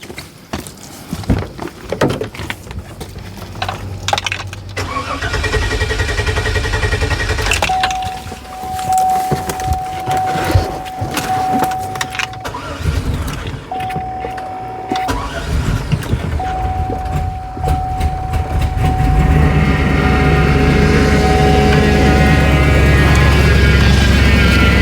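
A car being jump-started with a portable battery jump starter: an electrical whine and cranking lead into an engine catching and settling into a steady idle, loud and close, with no talking.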